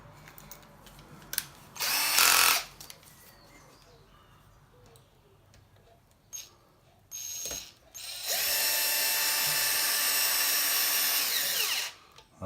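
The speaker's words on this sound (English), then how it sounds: "I'm just going to run these hinge pin bolts in" A power tool drives small hinge pin bolts into an Arrma Kraton 6s V3 RC car during a wheelie bar install, with short whirring bursts and then one long steady high-pitched run, close and loud.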